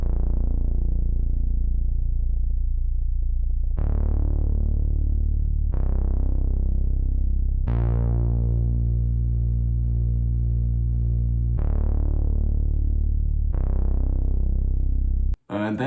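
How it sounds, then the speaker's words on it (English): The First Touch bass from a drum kit, used in a guitar loop, plays deep, booming notes that each decay slowly, about six long hits in a steady pattern, loud and close, cut off by a short click. "Next I added the bass from my drum kit, which sounds like this. It's called the First Touch bass."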